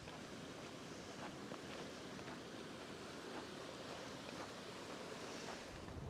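Steady wind blowing across an open Lake District fell, a constant broadband rush with gusty buffeting on the microphone and no voices.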